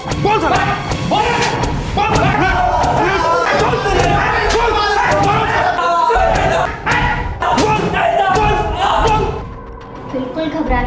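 Dull thuds of blows land repeatedly on people being beaten in a TV crime drama scene, mixed with shouting and a crowd's agitated voices throughout.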